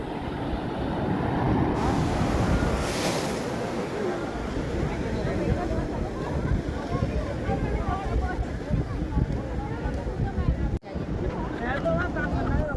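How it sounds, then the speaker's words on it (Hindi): Ocean waves wash ashore at Baga beach in Goa in a continuous broad, rushing roar, with gusts of wind buffeting the microphone throughout. "इधर तक आ रही है लहरें, इधर तक।"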